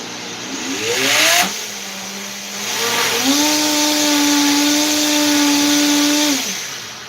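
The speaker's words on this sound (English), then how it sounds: "I'm gonna put it back in the blender." A blender runs for several seconds, briefly spinning up and dipping, then holding a steady loud whirring pitch before winding down, with no one talking over it.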